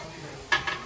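Chopped onion hits a hot pan in a busy home kitchen: two short, bright sizzling bursts in quick succession over a low, steady background hum.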